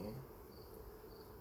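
Honeybees at an evening hive buzz loudly, a close, continuous hum in a brief burst.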